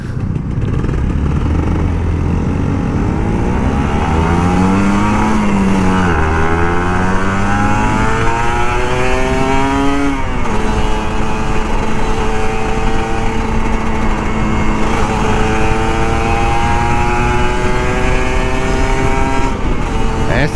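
A Kawasaki Ninja RR 150 sport motorcycle engine roars loudly and continuously, revving up and down with rising and falling pitch, close by throughout.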